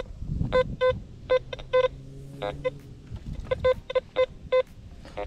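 Short electronic beeping tones from a metal detector in irregular bursts, some quick pairs, over faint low rumble and outdoor noise at a construction site.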